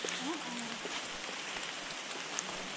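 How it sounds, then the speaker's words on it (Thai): Steady rain falls through a forest, a dense continuous hiss of drops with a faint voice briefly underneath. "ฝนตกแบบนี้"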